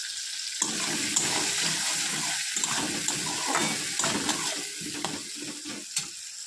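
Whole garam masala, bay leaf, cumin seeds and tomato fry in a pan with a loud, continuous sizzle, broken by repeated scraping stirs close by.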